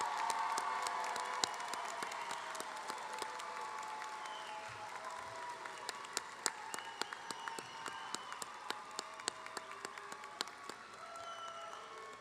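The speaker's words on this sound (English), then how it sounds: "let's give them one round of applause again" A commencement crowd at a university psychology and social work ceremony gives sustained applause, with dense distant clapping, scattered louder claps and faint cheers continuing steadily throughout.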